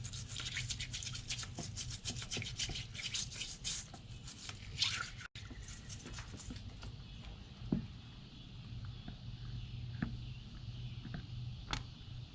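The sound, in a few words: soft bristle brush scrubbing a Civil War revolver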